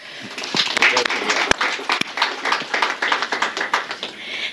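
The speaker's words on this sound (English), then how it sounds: "Give him a big round of applause." A meeting audience gives a round of applause, with a steady patter of many overlapping hand claps swelling and continuing for several seconds, with a few sharper individual claps standing out.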